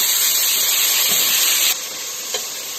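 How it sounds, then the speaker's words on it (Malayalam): Ginger-garlic paste sizzles in a pan of fried onions for mutton biryani, a loud, steady frying hiss that drops somewhat in level partway through, with a faint clink near the end. "ഇഞ്ചി വെള്ളുള്ളി പേസ്റ്റ് ഇടുന്നുണ്ട്"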